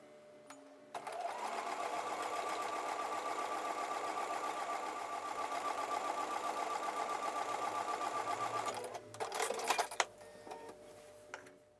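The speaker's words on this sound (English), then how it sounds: "So I'm going to take these over to the sewing machine and sew with a 1/4 inch seam allowance." A sewing machine runs continuously stitching quilt block pieces with a quarter-inch seam, a steady rapid mechanical whir for several seconds that ends in a few brief clattering bursts as it stops, close and alone.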